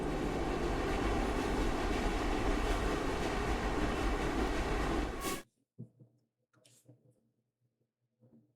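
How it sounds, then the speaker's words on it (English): A train arriving at the end of the line in the video game Luna Abyss, a loud steady rumbling roar for about five seconds that cuts off abruptly, leaving faint scattered sounds afterward. "We have reached the end of the line where this train will terminate."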